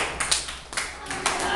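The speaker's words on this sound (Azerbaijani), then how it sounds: "Yoldaşlarınızı alqışlayın, Dilbərim" Children applauding classmates in a classroom during a geography quiz game, with bursts of clapping coming in uneven waves over a noisy room.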